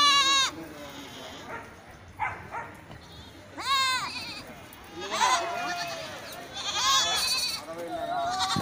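Goats and sheep bleat at a busy weekly livestock market, several loud wavering calls from nearby animals at irregular intervals, with people talking and bargaining underneath.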